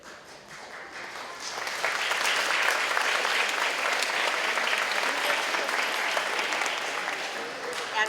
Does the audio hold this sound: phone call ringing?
no